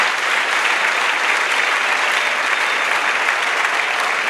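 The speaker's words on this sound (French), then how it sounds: "Let everyone clap for Jesus." A large crowd at an evangelism crusade in Douala claps continuously, a dense, loud, even wash of applause with no pauses.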